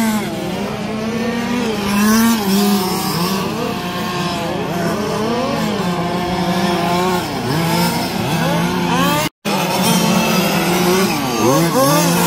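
Several 1/5 scale RC touring cars race around a track at a Wagner Park qualifier, their small petrol engines whining and buzzing continuously with rising and falling pitch as they pass, loud and close throughout.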